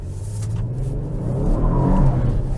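A 2022 Kia Stinger GT RWD with its 3.3 V6 accelerates hard, the engine note climbing steadily in pitch and loudness from inside the car, with no talking.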